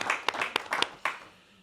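A brief burst of scattered hand clapping from an audience at a talk on effort in religious traditions, a few uneven claps that fade out quickly.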